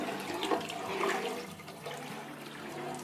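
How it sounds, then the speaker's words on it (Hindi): About two liters of water pour steadily from a tap or container into a cooking pot for kadhi, a continuous rushing splash that stays moderately loud throughout. "तो इसमें मैं डालूंगी सबसे पहले तकरीबन 2 लीटर पानी।"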